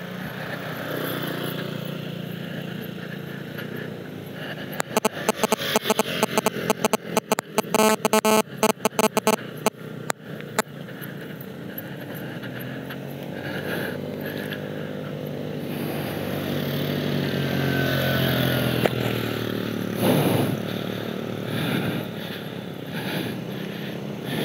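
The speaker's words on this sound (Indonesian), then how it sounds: "Motor tidak sanggup untuk nanjak berboncengan." A motorcycle carrying two riders strains up a very steep climb at Curug Sikarim on the Dieng Plateau, its engine a continuous labouring drone among a busy, noisy roadside. Rapid choppy bursts come in the middle, and the drone swells toward the end.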